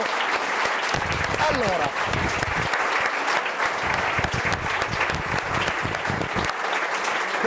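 An audience applauds a choir after a song, steady dense clapping filling the whole stretch at close range, with a voice speaking briefly over it.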